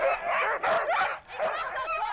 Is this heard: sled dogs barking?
yes